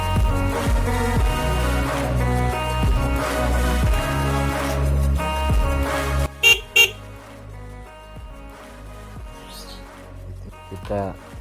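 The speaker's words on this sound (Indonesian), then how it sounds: "Kita tes untuk suara klakson keongnya." A snail-type car horn fitted to a motorcycle gives two short, loud honks right after background music cuts out, followed by quieter room sounds.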